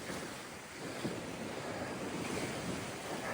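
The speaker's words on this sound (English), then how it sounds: "The waves crashing against the bottom of the bank." Sea waves break against the foot of a coastal bank on a moderately choppy day, a steady close wash of surf and spray with wind buffeting the microphone throughout.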